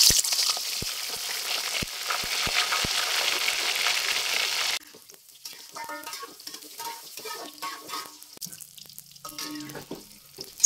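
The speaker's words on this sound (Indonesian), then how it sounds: "Lanjut, goreng tahunya." Tofu fries in hot oil with a dense, even sizzle for about five seconds, followed by quieter scattered crackles and light kitchen clatter.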